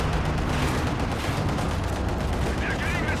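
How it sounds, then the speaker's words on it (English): A machine gun in the Company of Heroes 2 World War II strategy game fires continuously amid a dense, loud battle din with booming explosions, while someone talks over it. "Try and get the machine gun shooting quickly."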